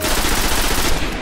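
Grenade blast in the Destiny video game during a Vault of Glass raid, a loud, dense roaring burst filling the whole short moment without a break.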